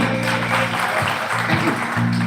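An audience applauds at a cultural evening: steady clapping continues throughout over a sustained tonal hum or music in the hall.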